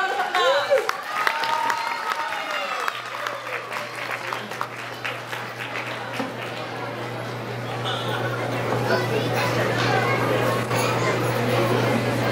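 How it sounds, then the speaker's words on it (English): Audience applause after a dance performance, beginning with scattered claps and children's voices, then swelling into sustained, fuller clapping from a crowd, with a constant low hum running underneath. "Please give a big round of applause."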